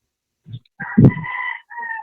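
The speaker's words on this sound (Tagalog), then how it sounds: "May manok pa talaga." A rooster crows once, loud and close, its call rising and then trailing off after a couple of short clucks at the start.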